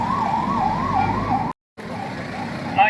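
An ambulance siren wails in a steady rising-and-falling tone during a disaster drill, fairly close, then breaks off briefly before sounding again.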